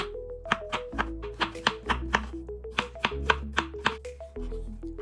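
A knife slices a cucumber lengthwise and then into half-slices on a cutting board for a salad, giving a quick, steady run of crisp close taps with no talk.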